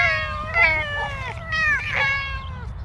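A cat meows several times in quick succession, drawn-out and tonal, with short pauses between cries, heard close over a low background rumble.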